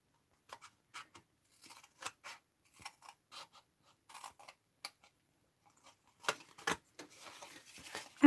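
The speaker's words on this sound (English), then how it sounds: "And then just cut this one straight across." Scissors snip through cardstock for a 3D candle box, a series of short crisp cuts in uneven rhythm, close and fairly quiet, with a denser run of snipping near the end and no talk.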